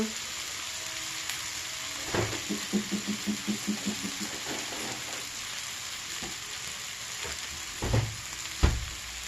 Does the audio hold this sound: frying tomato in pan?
yes